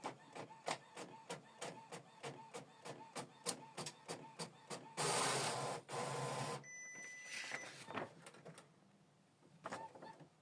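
An Epson WF-7840 inkjet printer printing a test page: a fast run of regular mechanical clicks and ticks, then a loud whirring feed that stops with a pause, and more lighter whirring and clatter after it, close and alone.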